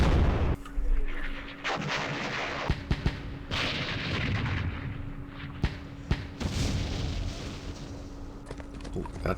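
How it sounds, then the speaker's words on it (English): Airstrike explosions in the Vietnam war strategy game Campaign Series Vietnam at Dien Bien Phu, a run of heavy booms and sharp blasts over a constant low hum, loud and repeated with no talk. "Another airstrike coming in."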